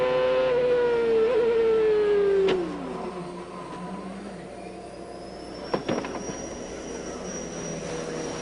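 CART race car engine heard onboard Jimmy Vasser's car at the 2002 Chicago race: a loud, steady high engine drone that falls away after a couple of seconds, then a quieter rumble with a few sharp impacts near the end.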